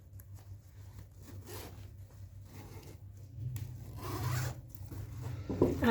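A zipper being pulled along a soft crocheted paper-yarn crossbody bag, with rubbing and handling noises; the rasping grows louder toward the end.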